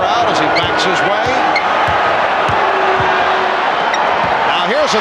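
A large arena crowd at the 1993 NBA Finals, Game 4, Phoenix Suns at Chicago Bulls, keeps up a dense, loud roar through the whole stretch. Basketball bounces and squeaks can be heard under it.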